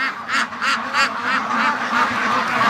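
Free-range ducks quack loudly and close by in a steady run of repeated, overlapping calls with no pause.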